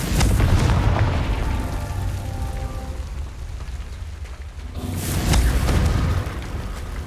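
Confringo explosive spell blasts in a Harry Potter video game, with two loud booming bursts, one at the start and another about five seconds later, separated by a fading rumble.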